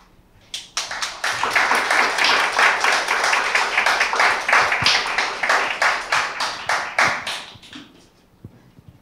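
An audience applauds an award-winning team at a Korea University startup competition ceremony, a dense burst of hand clapping that starts abruptly, holds steady for several seconds and tapers off near the end.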